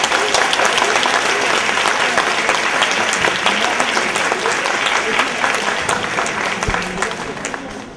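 Strong audience applause at a book-day event, dense and continuous clapping close by, holding steady before thinning slightly toward the end, with a voice partly audible beneath it.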